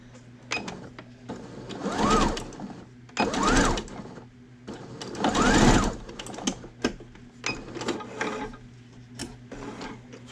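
A sewing machine runs in several short stitching bursts while sewing elastic onto an adult face mask, with a rising and falling motor whine, rapid needle clatter and brief pauses in between, close and clear.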